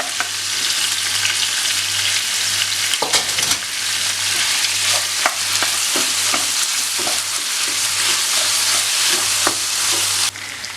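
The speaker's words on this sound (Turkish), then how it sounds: "Soğanlar dürülüklerini kaybettikten sonra üzerine 250 gram kadar kıymayı ilave ediyorum." About 250 grams of ground meat sizzling and frying over softened onions in a pan for an onion stew, a steady dense crackle with occasional louder stirring clatters, no voices.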